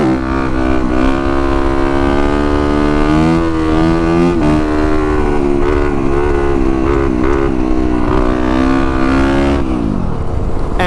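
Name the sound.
motorcycle riding a coaster wheelie in second gear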